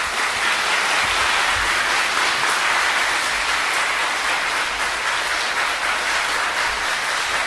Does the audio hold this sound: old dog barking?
no